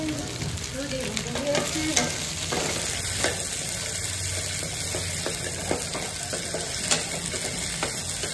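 Okra fries in a pan with a dense, continuous sizzle that holds steady throughout, with a few scrapes and light clinks from stirring, close up and without any voices.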